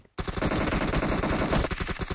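Video game gunfire: a rapid, sustained burst of automatic shots, loud and close, starting abruptly and continuing for about two seconds.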